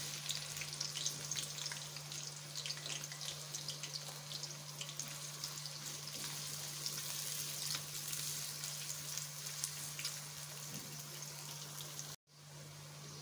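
Three sliced onions frying in half a cup of oil for chicken biryani, browning lightly; a soft, continuous sizzle with a steady low hum underneath and a brief cut near the end, no speech.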